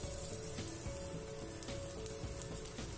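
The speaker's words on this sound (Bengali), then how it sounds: "এখন আদা কুচি দিয়ে দিলাম, চেরা কাঁচা লঙ্কা দিয়ে দিলাম, এগুলিও সুন্দর করে ফ্রাই হবে।" Chopped ginger and slit green chilies sizzle steadily in hot oil in a pan while tempering for dal, a continuous close frying hiss with faint stirring.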